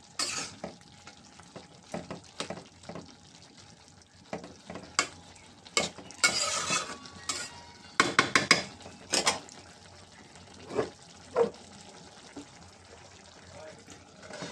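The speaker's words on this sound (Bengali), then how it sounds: "মোচার মধ্যে দিয়ে দিচ্ছি কিছু নারকেল বাটা, দিয়ে লাড়া দিয়ে ঢাকনা দিয়ে ঢেকে দেবো।" Chopped banana flower is stirred with ground coconut paste in a pan, a spatula scraping and clattering in irregular bursts over a soft sizzle, loudest in a quick cluster midway.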